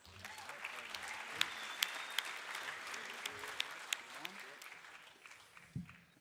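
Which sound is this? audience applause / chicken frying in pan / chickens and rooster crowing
audience applause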